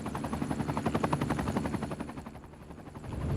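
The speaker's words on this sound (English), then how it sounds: "There's some helicopter flying over my head." A helicopter in the city-building game Cities Skylines 2 passes overhead, its rotor chopping in a fast steady pulse that swells, then fades and begins to rise again, with no speech.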